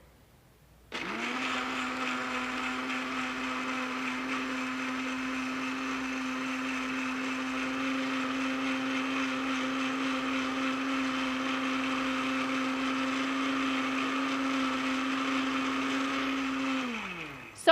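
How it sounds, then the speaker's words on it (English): A cheap rental-kitchen blender whirs through a homemade soap mixture, starting abruptly and holding a loud, steady motor whine for about sixteen seconds before cutting off, with no talk over it. "And we're going to blend this up."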